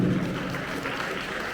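Audience applause at a community award ceremony honouring high-achieving students, a steady wash of clapping that swells at the start and then holds evenly, with a faint voice underneath.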